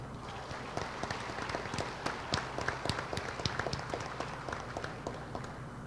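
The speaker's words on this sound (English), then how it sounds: "round of applause." Scattered clapping from an audience at a high school senior scholarship and awards ceremony, a thin, uneven patter of individual claps at moderate level, steady through the moment without speech.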